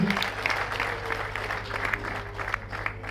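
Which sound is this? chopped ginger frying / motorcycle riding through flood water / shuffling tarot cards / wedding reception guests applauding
wedding reception guests applauding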